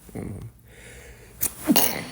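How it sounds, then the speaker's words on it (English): A single sharp sneeze near the end, preceded by a quick breath intake, close to the microphone. "I gotta sneeze"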